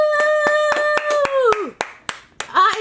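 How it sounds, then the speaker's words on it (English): About a dozen sharp, evenly spaced hand claps ring out close by, while a sustained voice holds a tone that slides downward beneath them before breaking into short vocal bursts. "Audience claps in the back."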